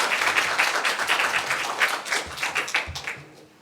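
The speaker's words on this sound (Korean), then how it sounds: "우리 다시 한번 큰 박수로 축하해 주시기 바랍니다." A church congregation breaks into applause during a Sunday worship service, dense sustained clapping from many hands filling the room for several seconds, with no voices over it.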